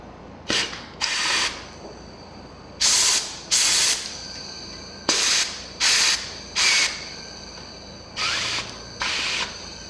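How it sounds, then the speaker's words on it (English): Compressed air blown through a Craftsman power washer in short repeated hissing bursts, about nine blasts of varying length separated by brief pauses, close and fairly loud. "We're gonna blow some compressed air through this"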